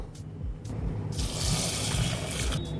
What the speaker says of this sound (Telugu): ఇప్పుడు వాటర్ వేసుకొని బాగా వాష్ చేసుకుందాం